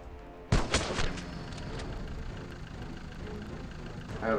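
A sharp gunshot blast from the video game LifeAfter rings out, followed by a few quicker pops and a steady rumbling background, with a fresh burst building at the end.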